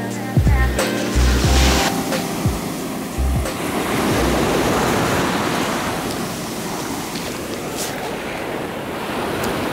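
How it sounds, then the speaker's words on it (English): Surf breaking on a beach in the Bahamas, a broad steady wash of waves with wind buffeting the microphone and a few low thumps early on. "This was our first Bahamas beach."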